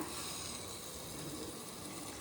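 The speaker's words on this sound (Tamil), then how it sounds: "1/4 டம்ளர் தண்ணி ஊற்றிக்கலாம், அவ்வளோதான்." About a quarter tumbler of water poured into a pot of masala cooking, giving a steady, soft, even gush of liquid close by with no talking.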